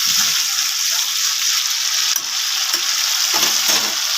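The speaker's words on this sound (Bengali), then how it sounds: "মশলাটা লেগে না যায় তার জন্য আমি একটু জল দিয়ে দেব" A loud, continuous sizzle and bubbling as a little water goes into frying spice paste with red chilli, with faint stirring scrapes toward the end.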